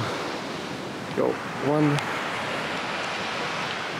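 Sea surf washing onto a beach in Barbados where horses are bathed and played with in the morning, a steady broadband wash throughout with a couple of brief spoken words near the middle.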